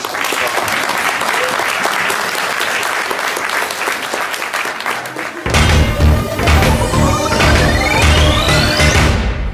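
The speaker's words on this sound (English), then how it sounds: "I would like you to give a huge round of applause" A large convention audience at San Diego Comic-Con gives a huge round of applause, dense and sustained clapping, then a musical outro with a rising tone cuts in over it partway through.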